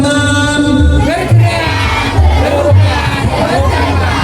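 Schoolchildren at a madrasa leadership training camp loudly shout their group slogan in unison, a dense, energetic crowd chant with rhythmic bursts of voices filling the space.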